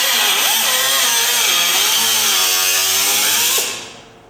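A cutoff tool slices into the metal body of a custom coupe, giving a loud, close, continuous high whine whose pitch wavers as the disc bites, then winds down at the end. No one speaks.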